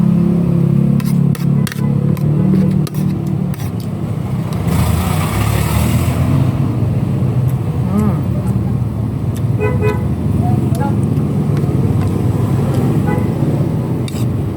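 Busy road traffic rumbles steadily nearby as cars pass, with several short car horn toots and a brief whoosh of a passing vehicle standing out over the continuous roar.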